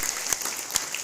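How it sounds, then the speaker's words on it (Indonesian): Brief burst of crowd clapping at a community religious gathering for orphans in Indonesia, a dense patter with a couple of sharper claps, lasting about a second. "Tepuk tangan untuk beliau."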